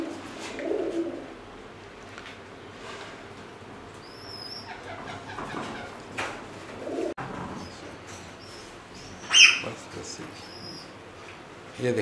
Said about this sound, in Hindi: ये हमने जो कबूतर आपको पिछली वीडियो में दिखाए थे वो देखें, अपने बच्चों को जो फीड करा रहे हैं